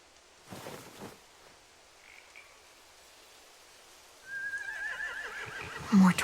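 A horse neighs in The Walking Dead video game, a loud, shrill whinny rising late in the scene after soft hoof thuds and quiet ambience, with a snort at the close.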